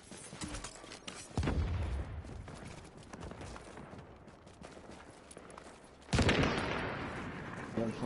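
Gunfire in the video game The Division on PS4, heard as a dense, crackling volley of rapid shots with two louder bursts and sustained rattling between them, with no talk.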